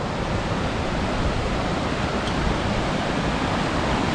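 White water rushes steadily in a small mountain tributary stream lined with laurel, a loud, even, unbroken roar with no talking.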